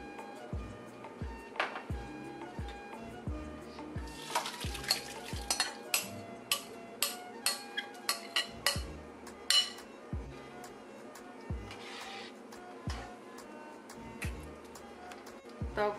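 A spoon stirs coconut burfi mixture with ghee in a pan over medium-high flame, giving repeated scraping strokes and light metallic clinks at a steady rhythm, close and moderately quiet.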